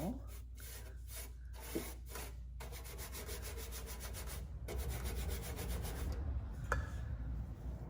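Black wax being rubbed by hand over a painted dollar store box, a soft, steady scraping and rubbing texture with short repeated strokes at close range, fairly faint.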